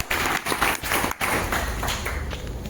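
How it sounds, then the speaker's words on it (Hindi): An audience claps for Jitendra in a room, giving a few seconds of dense, close hand clapping with brief gaps and uneven bursts. "जितेंद्र जी के लिए जोरदार ताली होनी चाहिए"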